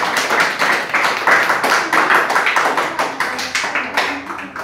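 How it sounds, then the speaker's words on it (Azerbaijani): Schoolchildren in a classroom applauding their classmates during a world-countries quiz game, a dense run of steady clapping lasting the whole stretch, close and lively with no voices. "Uşaqlar, gəlin axıra qalan şagirdlərimizi alqışlayaq."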